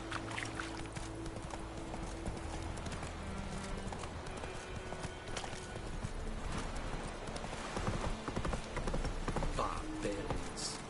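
Galloping horse hooves in The Witcher 3 video game, a steady rapid clip-clop running throughout over a busy, loud game soundscape with a voice briefly heard.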